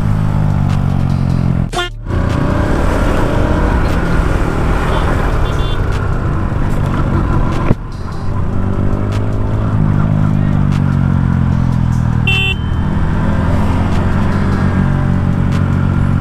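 Yamaha R15 and KTM Duke 200 motorcycles drag racing, their engines roaring loud and steady with a brief dip and a renewed surge midway, sounding close throughout.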